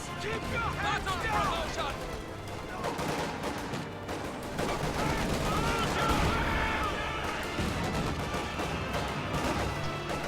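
Rapid gunfire, machine-gun bursts and heavier Panzerschreck rocket blasts in a World War II strategy video game battle, a dense, continuous barrage under steady commentary from a voice.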